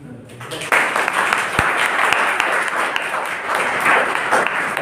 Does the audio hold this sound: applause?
yes